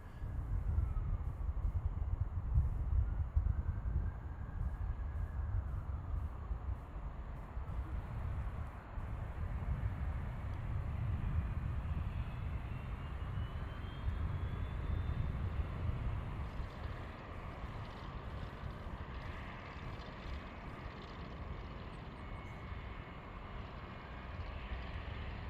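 A 48-year-old aircraft at Boeing Field gives off a continuous low engine rumble at moderate distance, a steady droning roar that holds for the whole stretch with slight swells.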